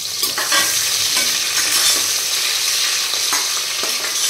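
Onions frying in a pan for chicken biryani give a continuous close sizzle with occasional scrapes and clatters of stirring, with no one talking.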